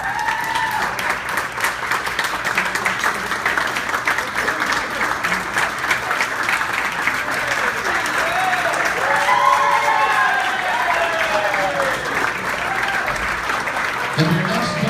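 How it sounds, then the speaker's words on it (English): Wedding guests applaud the maid of honor after her speech at a reception, sustained clapping filling the room for about fifteen seconds, with voices and cheers rising partway through and a speaker talking over the crowd near the end. "A round of applause for your maid of honor"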